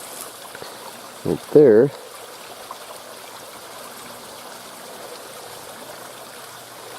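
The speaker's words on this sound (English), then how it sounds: "There's a pipe right there. It has a few drips coming out of it." A thin, steady trickle of water drips and runs from a pipe near a hillside stream, faint and continuous. A brief spoken remark and a short thump come early on.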